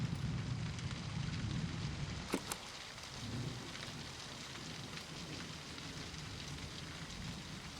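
Rain in the video game Season: A Letter to the Future, a dense steady downpour pattering on surfaces, with a brief sharp crack early on before the hiss settles evenly.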